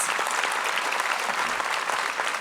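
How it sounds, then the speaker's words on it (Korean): A large church congregation at a Sunday worship prayer rally gives a steady, even round of applause for a pastor. The applause sounds somewhat distant and fills the room without any clear voices. "Please welcome him with a big round of applause."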